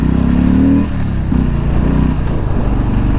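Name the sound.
Harley-Davidson Street Bob motorcycle accelerating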